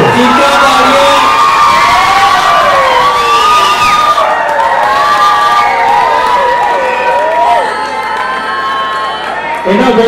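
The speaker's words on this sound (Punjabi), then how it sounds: "ਲਾਸਟ ਰਾਊਂਡ ਹੈ, ਤਾੜੀਆਂ ਮਾਰ ਲੋ, ਚੀਕਾਂ ਤਾੜੀਆਂ" Spectators clap, cheer and shout during the last round of a pro fight night bout between Sandeep Chakkar and Pradeep Kumar at Badiala, a loud, continuous crowd roar with whoops and high yells throughout.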